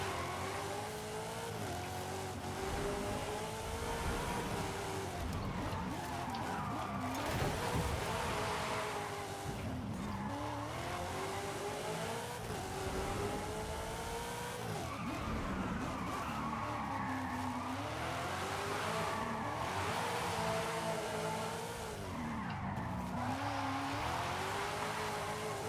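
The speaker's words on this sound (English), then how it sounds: "So I'm just gonna start drifting." Car drifting and skidding in a racing video game, with loud continuous engine roar, rising and falling revs and tire squeal through long slides, no pauses throughout.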